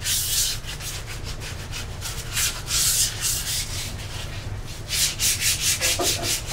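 Light hand sanding of fiberglass over a wooden surfboard urn, close rhythmic rasping strokes in repeated back-and-forth bursts, with a brief pause midway before a quicker run of strokes.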